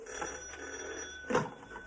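A telephone bell rings faintly indoors in a late 1960s British comedy scene, a steady thin electric ringing under a room hum, with a brief bump of a louder knock near the end.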